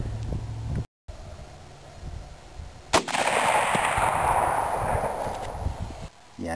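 Rifle shots from a Winchester 94 firing flex-tip bullets in a ladder test at 200 yards outdoors: a sharp crack near the 3-second mark with a long rolling echo, and a briefer abrupt cut before it, under light wind noise.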